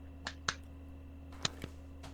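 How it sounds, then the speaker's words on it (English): A person clapping hands, four or five sharp, quiet claps spaced irregularly over a steady low electrical hum. "Can you hear me clapping when I'm talking?"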